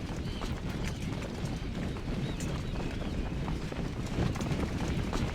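Rapid clip-clop of horse hooves galloping in the Ultimate General: American Revolution war game, a dense steady drumming of hoofbeats that stays loud and constant with no talk over it.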